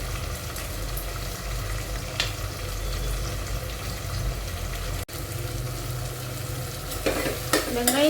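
Onion and tomato with salt sauté in a pan for mutton biryani. A steady low sizzle runs throughout, with stirring scrapes and a brief dropout midway and clatter near the end.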